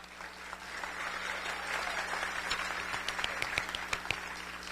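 Applause from a crowd at a school awards ceremony, with scattered sharper claps rising through a steady patter of clapping hands.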